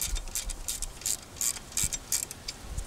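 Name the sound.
ratchet tightening a bolt on a Toyota Avalon alternator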